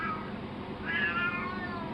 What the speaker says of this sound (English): don't worry about my cat